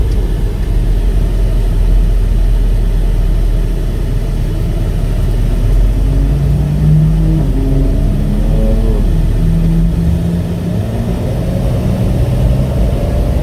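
A 2017 Ford F450 XLT tow truck with a Jerr-Dan self-loader wheel lift accelerates. The engine sounds loud and close as a steady low rumble, and its pitch climbs through gear changes with no talking.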